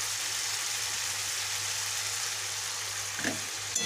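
Chicken added to hot oil and masala sizzles in a pan, a steady soft hissing crackle throughout with a faint clatter near the end.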